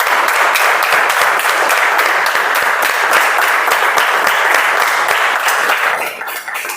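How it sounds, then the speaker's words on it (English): Dense, loud applause from an audience at a poetry club meeting, continuous clapping that thins slightly toward the end, with no speech over it. "I think you all deserve a huge round of applause."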